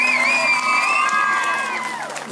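A crowd at an outdoor live music show in Avdella, Grevena, Greece, cheers loudly with sustained shouts and high whoops, close and continuous throughout.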